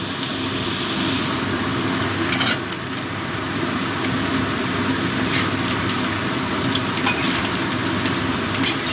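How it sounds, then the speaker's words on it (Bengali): Cauliflower frying with already fried potatoes in a pan, a constant, fairly loud sizzle close by, broken by a few brief scraping stirs and clinks of a spatula, with no voices. "ফুলকপিটা দিয়েও একটু ভেজে নেবো"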